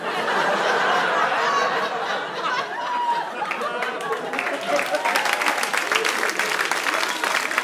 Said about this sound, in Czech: Teď tleskáte, to je hezký.